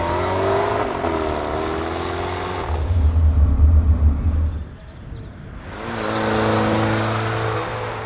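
Car driving on a new test track: a steady engine drone with clear harmonics, swelling into a louder rumbling rev, briefly dropping away, then returning to a steady hum, close and loud.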